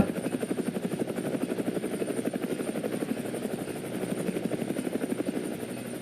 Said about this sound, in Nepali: यो हेलिकप्टर नाचिरहेको त्यहाँ